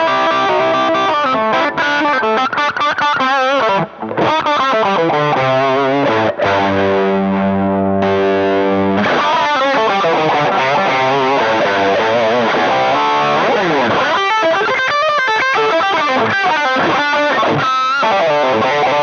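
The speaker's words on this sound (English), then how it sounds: "This is the Zapped Up Yours distortion pedal." Electric guitar driven through a Zapped Up Yours all-tube distortion pedal, loud and saturated, playing chords and riffs with sustained notes and a brief pause near the middle, no voices.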